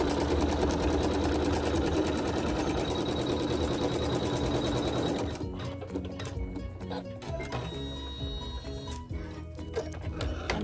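Sewing machine running a tack down stitch through smooth quilt block fabric, a fast steady mechanical whir for about five seconds, then stopping to quieter rattles and clicks.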